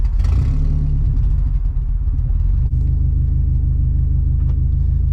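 A turbocharged K24-swapped Honda Civic EM2 idles with a deep, steady rumble, then pulls away as the engine note rises; the engine is loud and close, with no talk over it.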